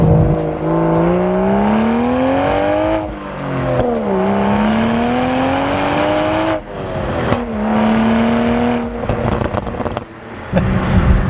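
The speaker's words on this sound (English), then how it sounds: "the exhaust gets pretty loud in sport mode as well" A Toyota GR Supra with manual gearbox revs hard through several gears in sport mode, its loud exhaust rising in pitch, dropping at each shift, with brief lifts between pulls.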